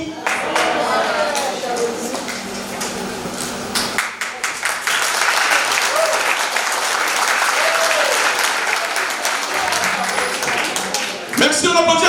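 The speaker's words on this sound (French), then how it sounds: "on applaudit encore pour la maman" Warm, sustained applause at an 83rd birthday celebration honoring the mother, a dense crowd clapping steadily, with a brief dip midway before swelling again.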